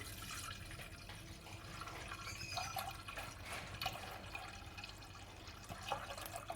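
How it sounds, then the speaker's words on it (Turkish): Milk, one litre of it, pours steadily into a pot for a chocolate tray-cake cream, a continuous liquid rush with faint splashes running throughout at moderate level. "1 litre sütü boşaltıyorum."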